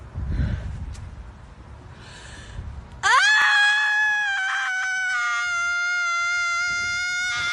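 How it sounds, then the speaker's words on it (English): A woman on a morning walk screeching loudly, a long sustained high piercing wail that starts suddenly after quieter outdoor ambience and holds steady for several seconds. "a completely sane leftist woman on her morning walk screeching into the abyss"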